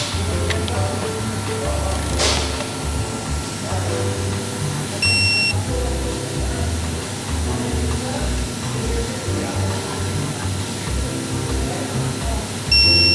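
A digital Snap-on 3/8-inch torque ratchet set to 30 foot-pounds gives two short high electronic beeps several seconds apart, heard over steady garage background noise during an oil change on a 2017 Subaru Crosstrek with a manual transmission.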